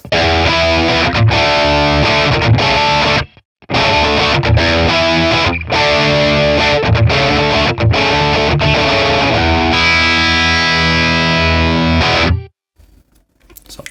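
Electric guitar through a captured Matchless Laurel Canyon 20-watt amp with reverb off plays loud, dry, overdriven chords and riffs, broken by a couple of brief pauses and cutting off sharply near the end.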